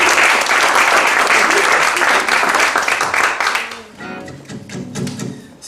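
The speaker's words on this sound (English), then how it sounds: "Give him a round of applause." Concert audience applause for a performer, loud dense clapping for nearly four seconds that quickly fades as a voice and instruments come in.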